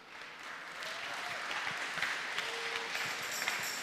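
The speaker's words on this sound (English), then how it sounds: "And for Jesus, a round of applause." A steady round of applause from a youth fest crowd in Goa, dense and even at moderate loudness throughout, with a faint brief tone over the wash of clapping.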